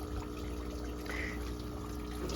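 Water trickles steadily through an aquaponics filtration setup and drains back into a fish tank, a continuous close wash of flowing liquid with a low pump-like hum underneath.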